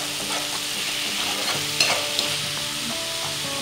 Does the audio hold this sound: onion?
yes